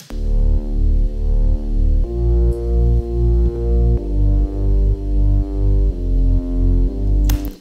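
A deep synth bass layered with a sub bass, with a full, organ-like tone, pulses in even repeated notes, shifting pitch every couple of bars.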